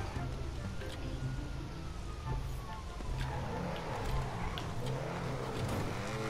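Police car siren in GTA V, a gliding wail sweeping steadily through the middle under continuous engine and game noise, with people chatting over it.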